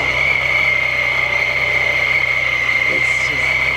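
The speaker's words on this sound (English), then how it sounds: "I love that whistle sound." A supercharged VR6 Golf GTI idles with the hood closed, its supercharger giving a steady, loud high whistle over a low engine drone, with a faint brief chirp near the end.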